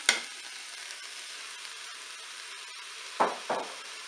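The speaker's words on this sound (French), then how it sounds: "Je vais ajouter mes champignons." Mushrooms go into a hot Cookeo multicooker after shallots and sizzle steadily. Brief scraping stirs punctuate a constant frying hiss heard up close, with no talking.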